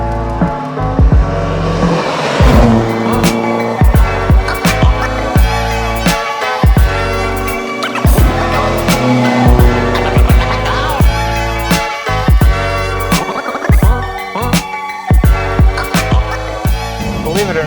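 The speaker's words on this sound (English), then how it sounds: "the carbs really give it this nice growl when you're out driving the car around." A 1974 Alfa Romeo GTV with carburetors growls loudly while being driven, its engine note rising and falling through gear changes with sharp transients, steady and close throughout.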